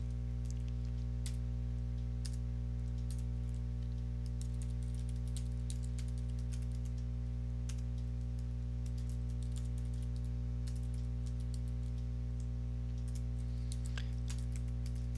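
Someone types HTML code on a computer keyboard, with irregular clusters of close key clicks and taps over a steady low electrical hum.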